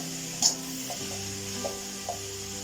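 Colocasia stems sautéing with fried onions in a pan for thoran, a soft continuous sizzle with a few light stirring clinks and scrapes, no voices.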